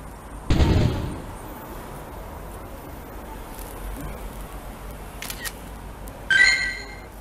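Camera shutter snapshots in the Pokémon GO mobile game, a sharp click near the start followed later by another bright snapping shutter, with quiet background between.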